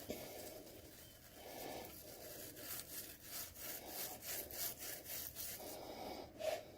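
Metal tools get scrubbed with Pepsi Max in a run of rhythmic, close rubbing strokes, each a soft scratchy swish, with no talking.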